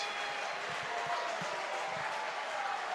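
Fans at an IBL baseball game between the Brantford Red Sox and London Majors applaud after a two-run double, a steady patter of clapping and crowd noise at moderate distance.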